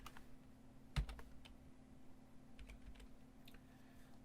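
Quiet, close clicking of a computer keyboard as code is typed, soft irregular keystrokes with one sharper tap near the start and a faint steady hum underneath.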